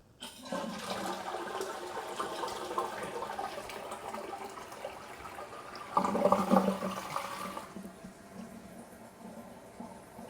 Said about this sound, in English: Did I really just flush the toilet while recording a video?